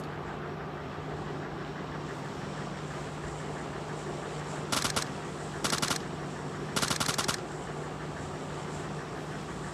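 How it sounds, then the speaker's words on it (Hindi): In PUBG Mobile Lite, three short bursts of automatic gunfire crack out over a steady background hum, each a rapid volley lasting under a second, with brief pauses between them. "पहले तो मैं उसको 1-2 शॉट मारने की कोशिश करता हूँ।"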